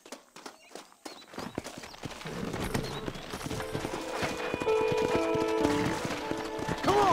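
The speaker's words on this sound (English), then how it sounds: "Horses are over here!" Hooves clip-clop in a steady walking rhythm in the video game Red Dead Redemption, growing denser as several horses approach, with a brief whinny near the end.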